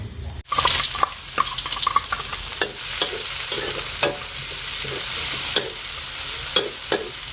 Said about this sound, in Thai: เดี๋ยวไปเบิ่งผัดกะเพราครับ